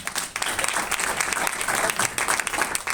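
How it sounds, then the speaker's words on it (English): Steady applause from an audience fills the whole stretch, dense and continuous hand clapping at close range with no break and no speech over it. "Let's clap on that one."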